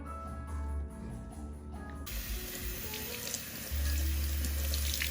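Tap water runs steadily into a sink while vinegar and baking soda are rinsed off, a close, continuous hiss and splash that grows louder and fuller partway through, with no talking.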